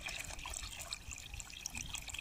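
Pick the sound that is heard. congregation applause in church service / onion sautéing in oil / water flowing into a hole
water flowing into a hole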